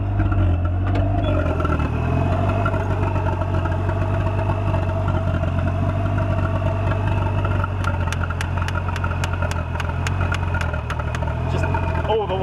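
A Mitsubishi 4G63 turbo engine with retarded timing and no airflow meter runs at a rough, steady idle, loud and close, with a series of sharp rhythmic ticks appearing in the second half.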